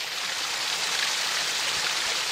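Creek water flowing steadily along a ridge-side hiking trail, a continuous broadband rush close to the microphone with no pauses and no voices.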